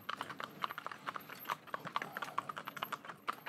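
Hooves of horses pulling a trandem carriage clip-clop briskly on a road, a quick, steady rhythm of sharp hard strikes close by with no talking.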